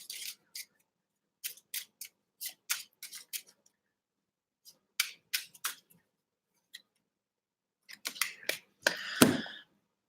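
Tarot cards are shuffled by hand in bursts of crisp flicks and riffles, with short pauses between groups and a louder, longer riffle near the end, close and clear with no talking.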